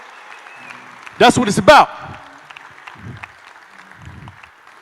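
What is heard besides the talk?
audience applause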